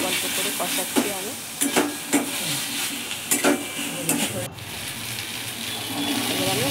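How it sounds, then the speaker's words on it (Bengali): Masala is being sautéed and stirred in a pan for matar paneer, with a bright continuous sizzle punctuated by several loud scrapes and clinks of a spatula against the pan, close and prominent. "অল্প করে কষাচ্ছি আমি।"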